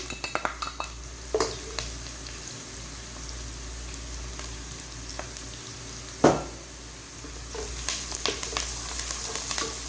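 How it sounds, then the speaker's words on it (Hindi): Onions with ginger and garlic fry in a pan for chicken haleem, a soft sizzle under sharp clinks and scrapes of a spoon stirring against the metal, one louder knock midway, no talk. "प्याज बस थोड़ा सा अपना कलर दे रहे हैं तो मैं क्या करूँगी, इसमें अदरक लहसुन शामिल कर दूँगी, ठीक है। इसको अच्छी तरीके से कुक करूँगी।"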